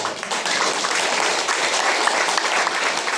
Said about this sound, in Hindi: स्वागत में जोर से ताली मारो